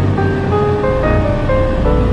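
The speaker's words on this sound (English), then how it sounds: "Look at those waves." Atlantic ocean waves near St. Kitts, heard from a moving taxi as a steady, loud wash of surf mixed with vehicle rumble.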